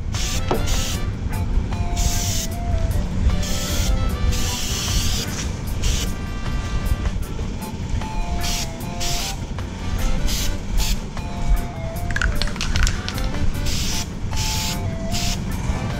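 An aerosol can of bed liner paint hisses in repeated bursts as faded waverunner bumpers are coated, sputtering short sprays with brief pauses over a noisy background.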